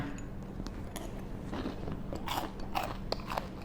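Crunchy bites and chewing of Thai chive cakes (kuichai), soft and close, with several crisp crunches spread over a few seconds against a quiet room background.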